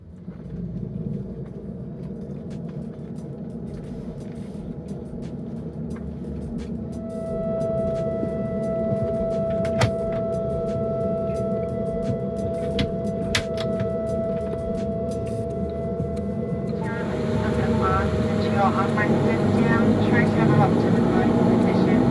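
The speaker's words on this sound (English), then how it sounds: "Soon the engines fired up on stand 1" The jet engines of an airliner run on the stand before taxi. A steady low roar and whine grows louder partway through, under a person speaking.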